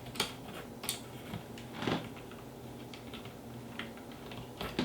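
Keys click on an AJAZZ GEEK AK33 RGB mechanical keyboard with blue switches, a few scattered, crisp keystrokes heard quietly up close with no voices.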